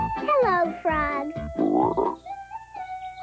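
Cartoon frogs croak in a short burst of comic, voiced calls on a village green, close and loud, mixed with a high tonal sting at the end.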